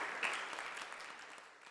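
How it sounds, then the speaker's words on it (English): Audience applause at a housing conference keynote, a steady wash of many hands clapping that fades a little toward the end. "Maybe another round of applause will do it for me."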